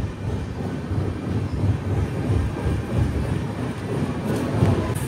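Train at Ongole railway station, with a MEMU train standing alongside, gives a steady low rumble that stays fairly loud and even throughout, with no voices.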